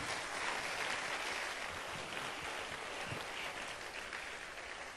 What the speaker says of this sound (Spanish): Démele un aplauso al Rey de la Gloria.